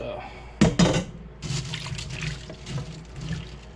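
Broccoli dropped into an ice water bath in a kitchen sink while freezing mixed vegetables: a sharp splash and slosh of water up close, then softer ongoing swishing and trickling, with a voice speaking at times.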